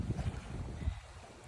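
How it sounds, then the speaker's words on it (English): Wind blowing outdoors in a backyard on a gusty day, low rumbling buffeting against the microphone in short irregular bursts. "Wind is blowing."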